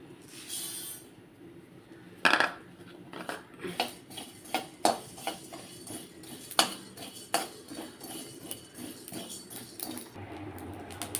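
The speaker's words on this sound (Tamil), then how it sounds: "அடுத்தது தனியா இதே பவுலுக்கு அரை பவுல் தனியா" Coriander seeds are roasted in a pan, stirred with a metal spoon that scrapes and clinks against the pan in an irregular rhythm, close by, with no talking.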